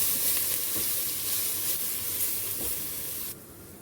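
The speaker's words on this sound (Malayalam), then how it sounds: "ഇത് നന്നായിട്ടൊന്ന് വഴറ്റിയെടുക്കാം." Oil sizzles steadily in a pan as garlic, ginger and green chillies sauté, a close hiss with occasional stirring scrapes, then the sizzle drops quieter at the end.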